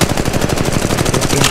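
Rapid automatic fire in Apex Legends Mobile, a dense, loud, evenly spaced burst of gunshots lasting under two seconds.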